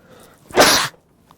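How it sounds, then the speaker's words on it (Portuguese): A single loud, close sneeze from a man, a quick sharp burst after a short intake of breath, with quiet before and after. "acabei espirrando aqui."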